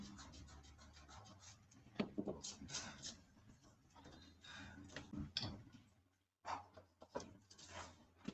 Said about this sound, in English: I'll rub this place off gently so that you guys will understand.